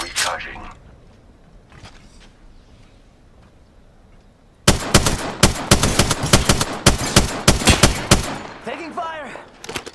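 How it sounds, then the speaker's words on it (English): Bursts of rapid automatic gunfire in Apex Legends, erupting suddenly after a quieter stretch and continuing as loud, uneven volleys with a few sharp single cracks mixed in. "Getting shot at."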